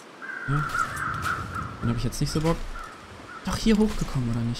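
Crows caw repeatedly in The Long Dark survival game, a run of harsh calls in the middle and again near the end, loud against a steady ambient hum while someone speaks over them.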